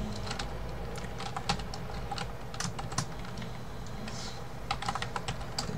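Steady, rapid clicking of a computer keyboard as code is typed, with irregular bursts of keystrokes over several seconds, close and fairly quiet, with no talking.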